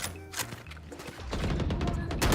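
Video game gunfire, scattered shots at first that build into heavy rapid bursts and booms, loud and dense by the end.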